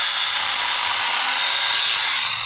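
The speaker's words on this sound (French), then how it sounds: "la tronçonneuse, il faut la bouger en fait pour tourner" A chainsaw running steadily as it cuts through wood, a continuous buzzing whine close by with no talk.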